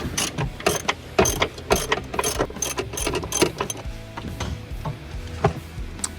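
A ratchet wrench loosening the 13 mm strut nuts on a BMW E46, giving rapid, close clicking in uneven bursts with a few pauses between strokes.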